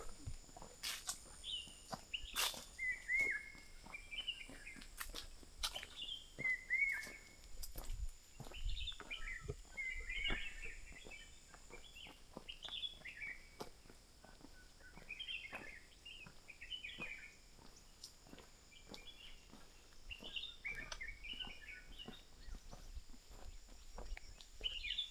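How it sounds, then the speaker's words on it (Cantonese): Birds chirping outdoors in the countryside, scattered high twittering calls repeating over a quiet background with intermittent footsteps and soft knocks, fairly faint and distant. "雀仔啊嘛。"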